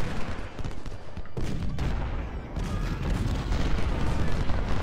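Massed musket and artillery fire in the Civil War strategy game Ultimate General: Civil War, a continuous rumbling barrage of overlapping shots and booms that stays loud throughout.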